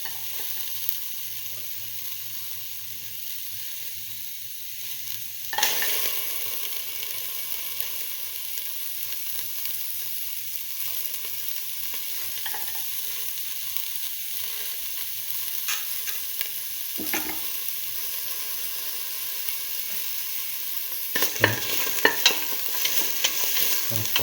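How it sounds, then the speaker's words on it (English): Shallots sautéing in a pan, a thin, steady sizzle held at moderate level, broken by a few sharp scrapes and knocks of stirring, heard close with no talking. "Keep on sauteing."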